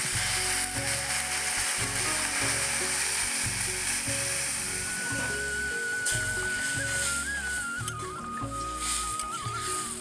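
Water poured into sautéed potatoes in a pan for a paneer curry sets off a loud, steady sizzle, with a continuous background hum throughout and no talking.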